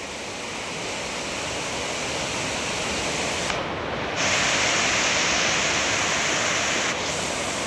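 Fast-flowing flood water surging through a flooded area, a loud, steady broadband roar of rushing water that continues unbroken for the whole stretch, with no voices.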